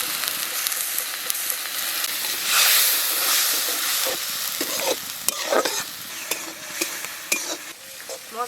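Spice paste of ginger-garlic paste, cumin, coriander, chilli and turmeric powders with a little water sizzles and fries in a pan while being stirred, steady hiss with repeated scraping strokes, close and fairly loud, no talking.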